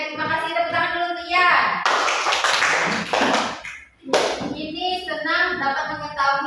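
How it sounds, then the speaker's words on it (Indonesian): Children in a classroom break into a burst of applause lasting about two seconds, framed by a teacher talking before and after. "Tepuk tangan dulu untuk Ian."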